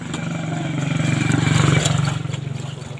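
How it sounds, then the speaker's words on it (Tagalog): A motorcycle goes by on a highway, its engine note swelling as it draws nearer and then fading away over about three seconds, heard from the roadside. "May dumaan na motor."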